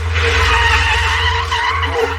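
1,000 horsepower McLaren drifting with electronic stability control switched off, loud continuous tyre skid and squeal over a roaring engine, close and sustained.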